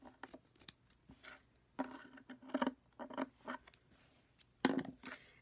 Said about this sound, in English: I'm going to take a strip of felt and I'm just going to cut a long strip.